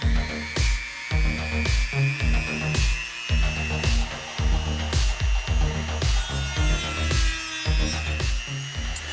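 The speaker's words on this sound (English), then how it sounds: "I felt that this one had too many details, so I started removing most of them with my Dremel." A Dremel rotary tool grinds details off a Gatling gun part for a scratch-built combat robot. It gives a steady high whine broken by repeated rasping passes in a regular rhythm, heard close up.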